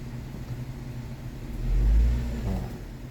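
A Kia Sportage 2.7 engine, one with misfire codes and surging, idles with a low steady rumble, then swells into a brief rev near the middle and settles back, close and alone.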